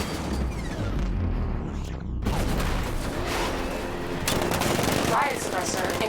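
Two heavy tank cannon blasts from Batman: Arkham Knight boom out a couple of seconds apart, loud and close, amid a continuous din of battle noise.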